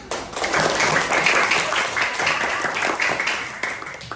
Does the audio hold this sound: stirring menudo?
no